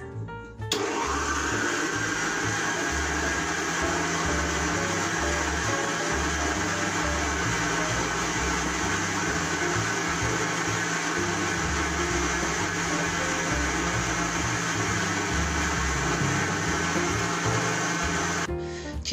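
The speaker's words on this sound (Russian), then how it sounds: "Теперь мы включим и начнем миксер наш и начнем взбивать до пышного состояния сливочного масла." An electric hand mixer whips softened butter with powdered sugar into a fluffy cream, running as a steady, loud, continuous motor whir from start to finish with no talking.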